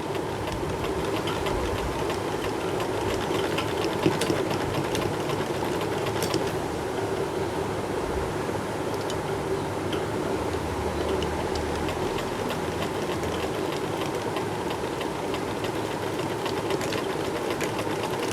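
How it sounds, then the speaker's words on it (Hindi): A sewing machine runs steadily and loud, stitching the back neck of a kameez with a continuous rapid mechanical whir and needle clatter throughout, no voices. "इसकी पूरी हमने सिलाई करनी है। इसी तरह से लेकर आते रहेंगे।"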